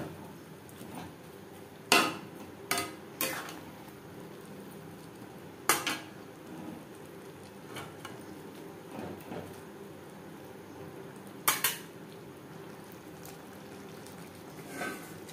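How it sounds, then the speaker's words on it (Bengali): Fried potatoes and soybean chunks are stirred into spices in a pan for soybean curry, with intermittent metal spatula knocks and scrapes that are fairly quiet and close. "দিয়ে দেব ভেজে রাখা আলু ও সয়াবিন। মশলার সাথে বেশ ভালো করে মিক্সড করে দেব।"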